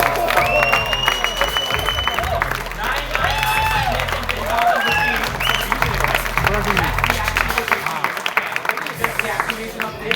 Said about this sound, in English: if you clap,